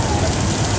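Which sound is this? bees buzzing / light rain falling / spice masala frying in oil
light rain falling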